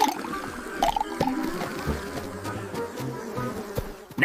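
Cartoon bees buzz in a busy, buzzing swarm at a picnic, with wet squishy splashes and small hits mixed in at moderate loudness.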